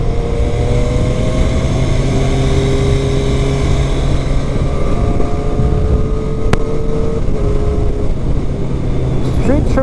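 A 2022 Triumph Street Triple R motorcycle rides steadily in fourth gear, a loud sustained engine drone with a rising tone under heavy wind rush. A rider talks over it.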